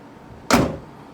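A Volkswagen Golf GTI Mk2 door gives a single sharp, loud thunk close by, a broadband hit that decays quickly over a fraction of a second against a quiet background.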